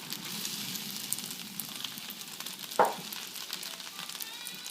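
Beef chow fun sizzles and fries steadily in a hot wok, with a brief sharper hiss as soy sauce hits the pan partway through.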